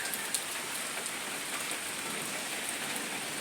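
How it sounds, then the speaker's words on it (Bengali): Heavy rain pours down in a steady, dense hiss with faint drop patters, loud and constant throughout, with no voices. "কোনো বৃষ্টি কমে নাই"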